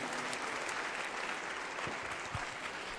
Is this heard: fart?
no